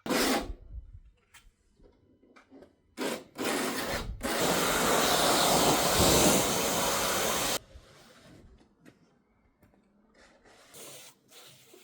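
A Wonder Wheel abrasive disc grinds shards off a Crafter van build, with a few short bursts, then a long loud sustained rasping pass, followed by quieter scraping and tapping.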